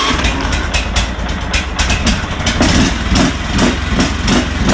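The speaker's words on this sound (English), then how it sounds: "But I gotta get this tractor going for right now." A tractor engine with hand throttle only runs steadily and loudly up close, a continuous low rumble with rhythmic pulsing throughout, and no talking over it.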